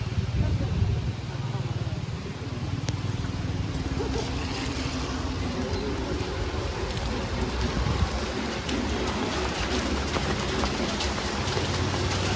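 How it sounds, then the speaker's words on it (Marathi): Rain falls steadily as a continuous hiss over a street outing to Tembhi Naka, with voices talking and faint traffic underneath throughout. "आता पाऊस पडले भाई"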